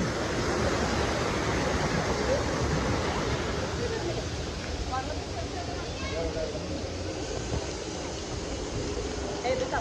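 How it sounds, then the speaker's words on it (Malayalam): Waterfall at Shallal park in Jeddah, a steady broadband rush of falling water that fills the whole stretch, with crowd voices and people talking mixed in. "ഇവിടെ എന്താ വെള്ളച്ചാട്ടം."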